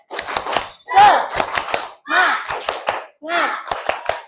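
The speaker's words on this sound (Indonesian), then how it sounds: "Kita tepuk semangat dulu ya, mengembalikan semangatnya supaya semangat kembali" An elementary school class performs the tepuk semangat spirit chant, with bursts of sharp, loud unison hand claps grouped in rhythmic patterns between shouted chanted words from the children.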